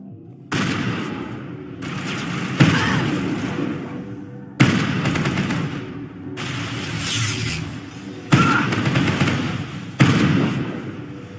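Sci-fi gunfire from the video game Mass Effect Legendary Edition comes in repeated loud bursts of shots, each with a sharp attack that fades under a noisy, rumbling background before the next volley.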